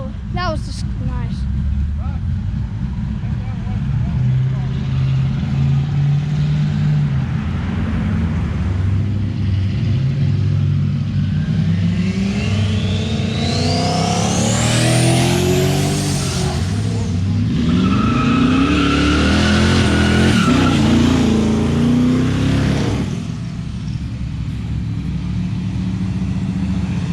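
A Ford Mustang at the Fox Gathering car show revs hard and squeals its tyres through a long burnout, the engine note climbing and falling over a steady crowd murmur, with people chatting nearby.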